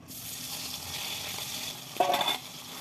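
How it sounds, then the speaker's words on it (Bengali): Fish lightly frying in a pan with cumin and a dried chilli, a soft steady sizzle close by, with a brief louder burst of spattering near the end and no talking. "মাছ কটা আমি হালকা করে ভেজে নেবো"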